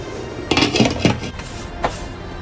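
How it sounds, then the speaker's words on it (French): A lid goes onto a cooking pot holding bean water, with a few close metallic clanks and clinks in quick succession followed by a faint settling knock, no voices. "Maintenant, on ferme la marmite."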